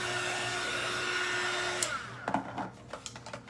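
A hair-dryer-style blower roars steadily for about two seconds while drying paint on a wooden board, then cuts off, followed by a few light knocks and handling clicks.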